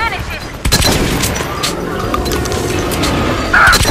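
Video game gunfire in Metro Last Light during a fight with a monster crackles in loud, rapid bursts, close and harsh, with a sharp flare near the end.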